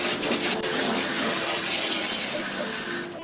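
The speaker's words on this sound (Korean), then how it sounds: "물을 뿌려 주시기만 해도 청소가 기본적으로 간편하게 끝나기 때문에" Water sprays steadily into a sink to rinse an ice maker filter laid flat, a continuous close hiss and splash that eases off slightly at the end.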